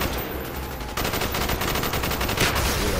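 Sustained automatic covering fire in Call of Duty: Black Ops, a loud, rapid stream of rattling gunshots that kicks in sharply after a moment and keeps hammering without pause.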